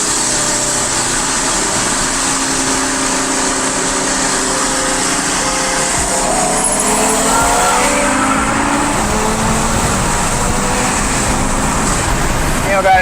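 A Procharged Ford Mustang Cobra with a 4.6 engine revs with a steady, wide engine roar that swells slightly midway, heard at moderate distance amid outdoor noise.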